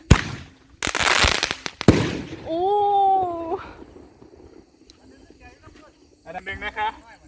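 New Year fireworks set off close by, with sharp loud bangs and crackling bursts in quick succession, followed by a whistling rising tone and scattered pops, with voices and laughter at the end.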